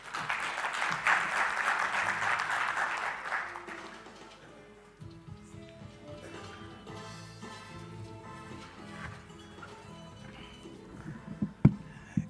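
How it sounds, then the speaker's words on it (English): Audience applause at a Teaching and Learning Week event as a speaker walks to the stage, a loud clapping crowd for several seconds that fades away into quiet room sound with footsteps and a sharp knock near the end. "Can we please give him a round of applause as he makes his way to the stage?"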